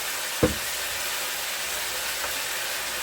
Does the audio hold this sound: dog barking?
no